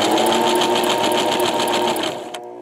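A sewing machine runs a zigzag stitch around the edge of a peasant dress, humming steadily with a fast rhythmic needle clatter up close, then slowing and stopping near the end.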